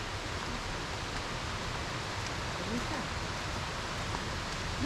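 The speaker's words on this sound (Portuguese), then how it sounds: "Olha o barulho da água aí" Water from a stream swollen after a night of heavy rain rushes in a steady, even hiss that fills the whole stretch at a moderate distance.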